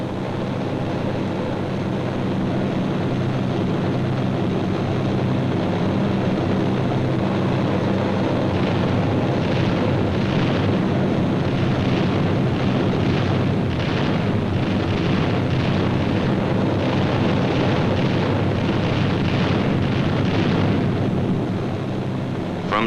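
Dense, continuous rumbling blasts from bombs dropped by B-25 bombers on gun positions and coastal installations in 1943, the roar steady and loud across the whole stretch with rolling surges and no speech.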